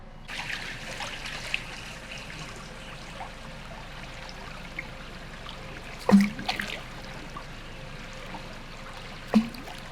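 A stream trickles and babbles steadily at low volume throughout in a quiet waterside setting in Xizhi, with a couple of sharp knocks breaking through partway and near the end.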